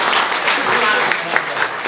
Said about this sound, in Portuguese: Não, uma salva de palmas, vereador.